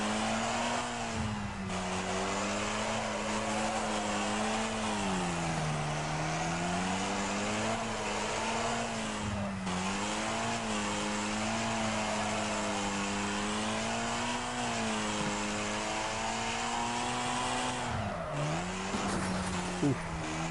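Rusty Rat car in the racing game Wreckfest, its engine droning steadily and rising and falling in pitch as it revs through turns, loud and continuous for the whole stretch, with faint tire noise.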